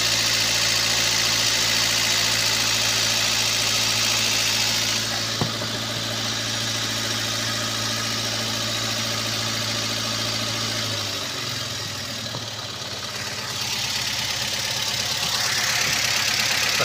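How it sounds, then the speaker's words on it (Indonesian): Toyota Avanza engine idles steadily with one ignition coil socket unplugged, a continuous close mechanical hum with a low drone that drops and roughens partway through, without any talk. "soket sudah kita cabut. Nah, tetap mesin masih mau hidup sobat ya."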